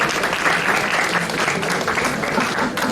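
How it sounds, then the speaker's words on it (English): Audience applause at a college demo day for business plans and prototypes: steady, dense clapping from a crowd, loud and continuous for the whole stretch. "Can we have a huge round of applause for that?"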